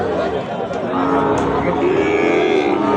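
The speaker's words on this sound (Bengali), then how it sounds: "অনেক আকর্ষণীয় একটি ষাঁড় গরু নিয়ে এসছেন আজকের হাটে" A Sahiwal bull calls with a long, low drawn-out moo at a busy cattle market, loud and close over a constant murmur of crowd chatter.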